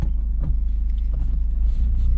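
A Toyota GR Corolla with all-wheel drive and a manual shifter rolls along with a loud, steady low engine drone and road rumble heard from inside the cabin, alone without talk.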